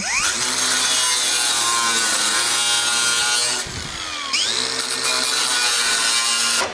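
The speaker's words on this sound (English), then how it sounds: "Just gonna get in there and zing it with the cutoff wheel, then put it back later" An angle grinder's cutoff wheel cuts into the metal of a 1937 Lincoln Zephyr with a loud, continuous high whine that dips briefly in pitch mid-cut as the wheel bites, then resumes at full speed close by.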